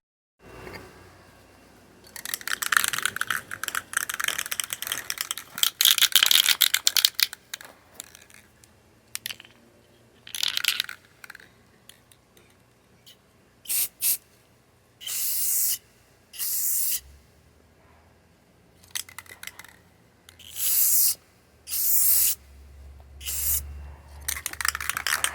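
A spray can applies a final coat of paint to a project bike, with repeated short hissing bursts of a second or two separated by pauses, close and fairly loud.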